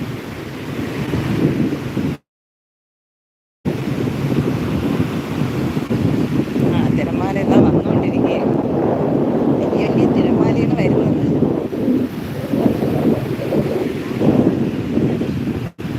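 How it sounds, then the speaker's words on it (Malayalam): Steady broadband roar of surf and wind throughout at Vettukad beach, with sea waves washing in continuously, briefly cut out near the start; no clear talk. "ചേച്ചി തിരമാല വരുന്നതെന്ന് നമുക്ക് നോക്കാം"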